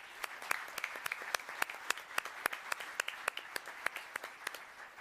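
An audience at a Los Gatos town council meeting gives a round of applause, heard as steady, sparse hand claps from a modest crowd in a hall, moderately distant, with no voices over it.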